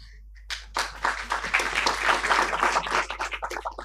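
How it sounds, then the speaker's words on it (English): A conference audience breaks into applause after a moment of quiet, with many hands clapping in an uneven, moderately loud burst that continues to the end. "I think it deserves a round of applause."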